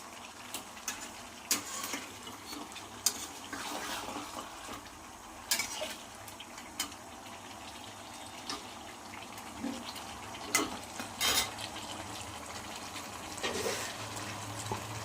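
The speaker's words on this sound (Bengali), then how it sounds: "এবার আলতো করে কষিয়ে নিতে হবে, যেন মাছের মধ্যে মশলাটা" Katla fish with spices is sautéed in a pan, giving soft stirring scrapes and occasional clinks of a utensil against the pan over a faint low background, with no talk.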